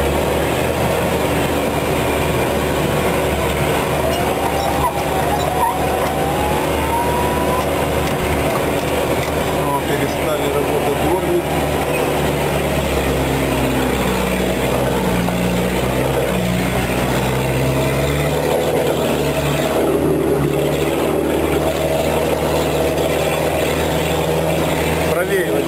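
An off-road vehicle rolls slowly through a deep, muddy puddle, its engine droning low and steady throughout, with water sloshing around it and people talking over the noise.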